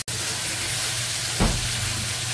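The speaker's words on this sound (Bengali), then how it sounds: "মাছটা আমি লাল লাল করে ভেজে নিচ্ছি, খুব কড়া করে ভাজছি মাছটা" Pangas fish frying hard in a hot pan, a steady broadband sizzle with a low hum beneath it and one brief louder burst partway through.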